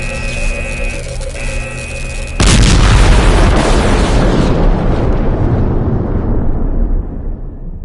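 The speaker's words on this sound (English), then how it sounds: "This thing is going to explode." An energy core explodes in a video game. A humming, tonal drone cuts off abruptly into a massive, close blast that roars across the whole range, then slowly fades into a long rumbling tail.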